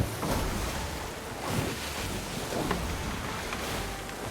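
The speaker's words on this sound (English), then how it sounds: "The splash of the waves, the sound of the sea" Sea waves wash and splash continuously while sailing between islands in a Mario video game, a steady surf roar with soft swells and some wind.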